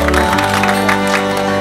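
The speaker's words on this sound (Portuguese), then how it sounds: "Uma salva de palmas aos 5 melhores da Metropolitano" Applause for the top five athletes at the Metropolitano final in Cubatão: a loud, close burst of clapping and crowd noise over steady background music lasting under two seconds.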